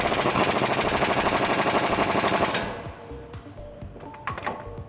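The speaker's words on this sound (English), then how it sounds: "we're gonna use a 19mm socket to tighten that down" A 19mm socket drives a suspension bolt tight on a 2005-2019 Toyota Tacoma front lift install, a dense rapid hammering burst for about two and a half seconds, then stopping, leaving scattered small metallic clicks and clunks.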